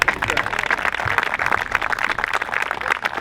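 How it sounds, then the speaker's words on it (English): A crowd applauds Hawthorne Hollow at the Petrifying Springs Phase 2 ribbon cutting, giving steady, dense clapping that holds at an even level throughout. "Give them a round of applause."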